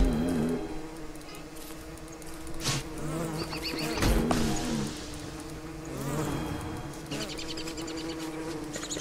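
A bee buzzes loudly and closely in a cartoonish survival game, its wavering drone rising and falling in pitch as it darts about, with a few brief sharp hits in between.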